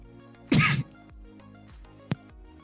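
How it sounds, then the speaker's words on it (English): A single short, loud cough bursts out from a player during an online Mario Kart tournament, followed by a faint click and quiet background game sound. "I was just coughing"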